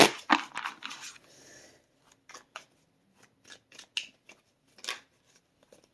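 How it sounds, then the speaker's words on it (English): A tarot card deck is cut into four piles, producing a dense flurry of crisp papery riffles and snaps at first, then scattered single taps and slaps of cards set down, close and fairly quiet. "I'm going to cut the deck in 4"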